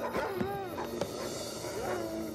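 A dog barks and yips in short bursts against a steady background of other noise and faint speech-like sound, with a few sharp calls spread across the moment.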